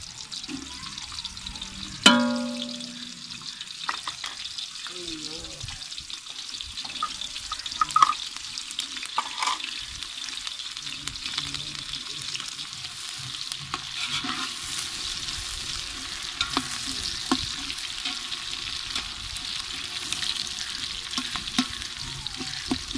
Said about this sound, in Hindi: और ये 2 किलो चावल में आधा किलो घी डालेंगे और ये 5 से 6 अदद प्याज।